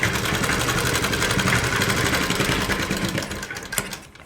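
A sewing machine stitching a kameez runs with a fast, steady mechanical chatter, close and continuous, slowing and stopping near the end with a final clunk.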